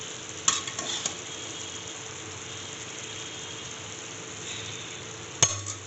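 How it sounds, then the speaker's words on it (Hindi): Cooked chickpeas for chole are stirred into sizzling, oil-glistening masala in a pan, giving a steady fry sizzle with a few sharp spoon scrapes and clinks near the start and end, and no talking. "चलिए अब मैं इसमें छोले डाल लूँगी अपने।"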